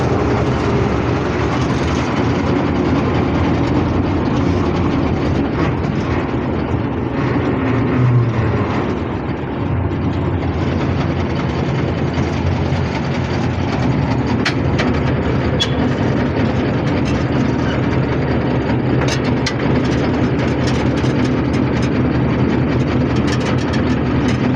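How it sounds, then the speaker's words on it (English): A locomotive on a mountain railway slowing to change points, its heavy engine rumbling loud and continuous with a steady low drone and occasional clanks, no voices over it. "Locomotive has to slow down to point the tracks to go up the mountain this way."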